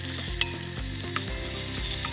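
Chopped onions frying in a pan for a restaurant-style mushroom biriyani, with a steady close sizzle and a brief sharp stir or clink near the start.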